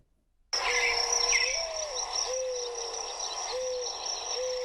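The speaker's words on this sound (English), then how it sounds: "I'm pretty sure that is a mourning dove" A mourning dove calls in a series of soft, low hooting coos, the notes repeating at a steady pace over a faint, constant high whine in the background.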